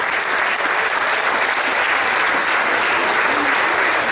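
Steady, dense applause from an audience at a Portuguese Socialist Party presentation of candidates for the 2017 local elections, greeting the team standing for the Nossa Senhora de Fátima parish assembly; loud and continuous with no talk over it.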